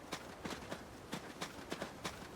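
Horse hooves clip-clop on a hard surface in an uneven walking rhythm, about ten distinct sharp knocks over a couple of seconds, fairly close, with no voices.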